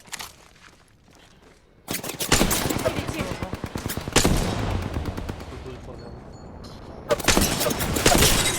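Gunfire in the battle-royale game Apex Legends: bursts of rapid automatic shots crackle loudly after a quiet start, with a brief pause, then another burst at the end; a voice talks over parts of it.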